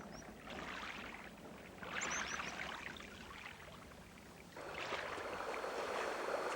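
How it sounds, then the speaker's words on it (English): Tidal water rushing in across flats near Broome in the Kimberley, a steady broadband wash that surges louder in waves, close and continuous with no talk. "the tide's really starting to rush, it's really starting to build"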